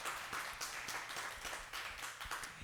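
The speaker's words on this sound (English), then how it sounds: "let's please give a round of applause for Ms. Kelly Frazier." An audience at a racial justice talk applauds, a steady wash of many hands clapping together at moderate distance, with no voices over it.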